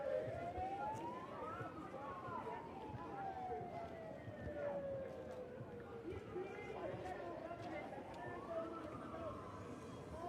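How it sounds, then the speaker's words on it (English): At a National Day of Action protest in Cleveland, sirens set off by the crowd wail in slow rising and falling sweeps, fairly distant beneath a steady wash of crowd noise. "now we're hearing booing right now and people are setting off sirens."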